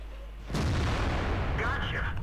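A T34 American premium tier 8 heavy tank fires its cannon with gold ammunition in World of Tanks, one sudden loud boom followed by a sustained roaring rumble and a faint rising tone as it fades.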